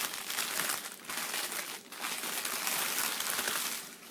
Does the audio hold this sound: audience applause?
no